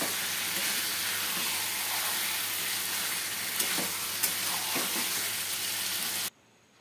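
Yogurt-marinated chicken fries in curry masala with a steady close sizzle, broken by a few scraping stirs of the spoon, before the sound cuts off abruptly near the end.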